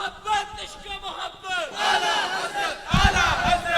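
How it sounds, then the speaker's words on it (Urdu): A crowd answers a religious slogan with loud, unified chanting, swelling in two strong bursts during a gathering at an Islamic sermon, with a voice leading before the response. "یار ڈر دیو نعرے دا جواب دے دو"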